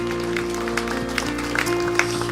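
A church congregation claps together during a Sunday worship service, a dense, even wash of applause over sustained organ or keyboard tones for a couple of seconds.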